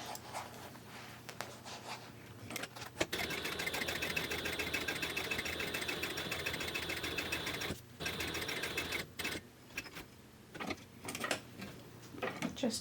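A sewing machine stitches a book bag in a steady, fast mechanical whir with rapid needle pulses, running for several seconds, pausing briefly, then resuming in shorter runs, close and fairly quiet.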